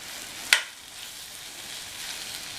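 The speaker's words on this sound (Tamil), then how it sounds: "நல்லா மிக்ஸ் பண்ணி விட்டுருங்க." Boiled baby potatoes being mixed into a simmering kurma gravy in a pan; a single sharp utensil knock near the start, then a soft, even frying hiss with faint stirring, and no speech.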